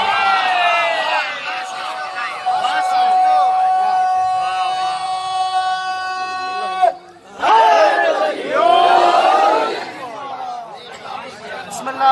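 A large crowd at a Muharram religious gathering in Sindh shouts slogans in loud unison, with surging chants and cheers, a sustained held tone in the middle, a brief lull, then another burst of massed voices.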